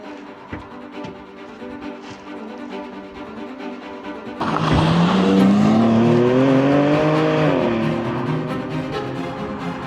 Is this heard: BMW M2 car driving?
yes